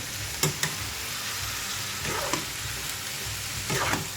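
Pork and ampalaya (bitter melon) sizzle steadily in a frying pan. A spatula stirs and scrapes the pan several times, with short clinks over the constant close hiss.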